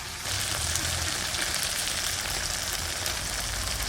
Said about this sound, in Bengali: এবার লঙ্কা আর জিরে ধুনে বাটা একসঙ্গে দিয়ে কষাবো